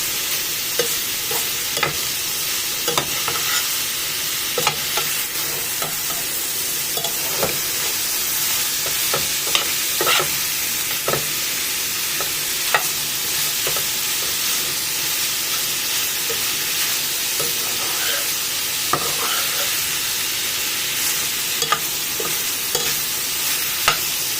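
Goat liver frying in a pan for a Somali breakfast, with a steady close sizzle and hiss, punctuated by intermittent scraping stirs, without talk.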